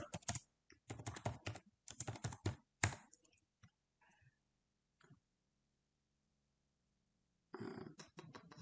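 Bursts of rapid clicking from typing on a computer keyboard, close and fairly quiet, in several runs separated by pauses and a few isolated key taps.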